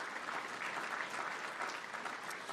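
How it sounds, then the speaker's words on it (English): Audience applause at the launch event for the DC Infrastructure Academy, a steady burst of clapping from a crowd lasting a few seconds with no voices on top. "Give those folks a round of applause."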